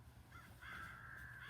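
Crows caw on a farm, a short harsh call followed by a longer drawn-out caw, fairly close and clear over a low background hum.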